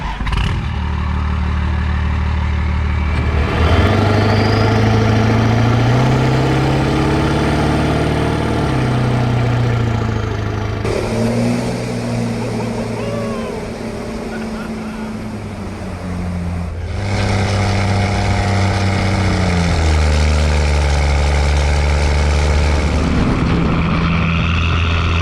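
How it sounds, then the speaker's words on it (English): Classic diesel trucks with straight pipes rumble loudly and continuously, with deep throbbing idle tones that rise and fall as the engines rev, close and unbroken. "Few vehicles on the road sound as good as a straight pipe diesel"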